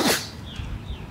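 A single short, sharp sneeze bursts out at the start outdoors, loud and close, then fades into quiet street ambience.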